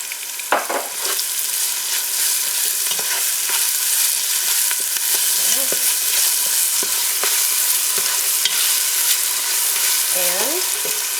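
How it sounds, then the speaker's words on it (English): Spices sizzle and fry in a pan while a utensil stirs through them, giving a steady, loud hiss with occasional scraping strokes and no voices. "I just want to blend that in and get the spices going"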